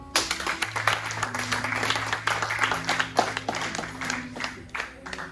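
A church congregation applauding, steady rhythmic clapping from many hands near and far, with sustained voices and tones underneath.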